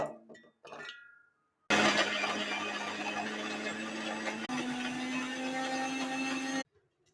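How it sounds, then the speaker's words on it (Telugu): A mixer grinder grinding coconut pieces whirs loudly for about five seconds, a steady motor hum under coarse grinding rattle, shifting pitch briefly midway before cutting off abruptly. "ఈ ముక్కలు తీసుకుని మిక్సీలో వేసుకుని మెత్తగా పట్టుకోవాలి"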